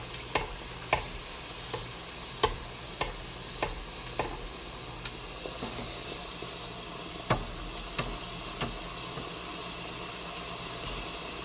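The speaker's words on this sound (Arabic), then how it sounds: "نزلناها الحين على الشبكة على القلاية، وننزلها الحين بالزيت" Indian fried bread sizzling as dough is lowered into hot oil in a home kitchen, with oil spooned over the top; a steady close hiss with sharp intermittent ticks and spatters, no talking.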